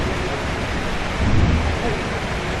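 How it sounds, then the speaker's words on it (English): Steady rain pours down in a morning thunderstorm, a dense continuous hiss with a low thunder rumble swelling briefly in the middle before easing back under the downpour. "Now this morning, much of rain."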